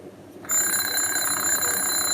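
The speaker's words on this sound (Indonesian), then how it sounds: "place the alarm bell in this position. Then we will turn it on." An alarm clock's bell, used in a science lesson on how sounds are made, starts ringing abruptly after a short quiet moment, then keeps up a loud, bright, continuous metallic ring close by.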